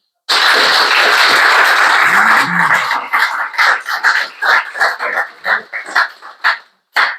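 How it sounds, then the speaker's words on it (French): A conference audience breaks into loud, dense applause for a speaker, which then thins out into scattered, separate claps before dying away. "François-Xavier Bellamy, vous pouvez l'applaudir."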